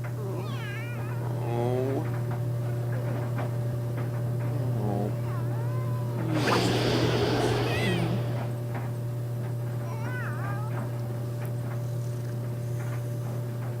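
A cat in The Sims 3 game meowing repeatedly, a string of short and longer meows with a louder, noisier burst midway, all over a steady low hum and no clear talk.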